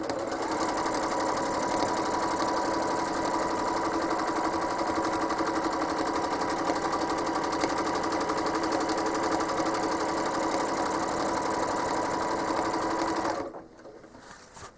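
Home sewing machine quilting in reverse, a steady fast mechanical whir and needle chatter running continuously and close for most of the moment before stopping abruptly near the end, no voices.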